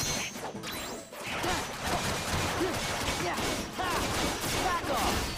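Sniper gunfire in Kingdom Hearts 2 during a battle in Twilight Town, with sharp cracks and crashing impacts over continuous loud combat noise, while a voice talks.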